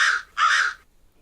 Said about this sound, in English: cawing at life in general.